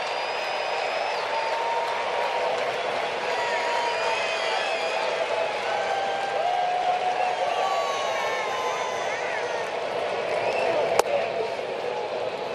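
Big baseball stadium crowd during Cardinals vs Braves in the 8th inning, a steady distant roar with scattered cheers and whistles under a commentator's voice, ending in a brief sharp crack.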